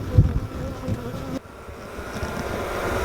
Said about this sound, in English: As you can see, there's bees around her